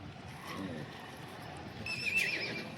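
At the Yeola horse market in Nashik, Maharashtra, a horse gives a faint neigh amid quiet market background, with a thin whinny rising toward the end.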